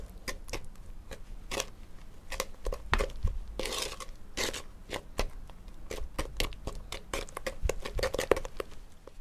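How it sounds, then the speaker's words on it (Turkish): Spoon stirring batter in a bowl, quiet irregular clicks and scrapes in quick uneven bursts, close by and alone. "karıştırmaya devam ediyorum"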